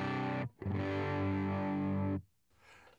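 An electric guitar amp turned down through an Ironman II Mini attenuator, playing a distorted chord that rings out for about two seconds after a short attack, then cuts off into near silence.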